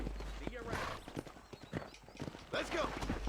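Horse hooves clip-clop at a steady gait in Red Dead Redemption, moderately close, with an occasional whinny and game sounds around them and people talking over the top.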